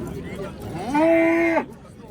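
A bull at the Qarshi Karvon livestock market lets out one loud, drawn-out moo lasting about half a second, standing out above the low murmur of the market crowd.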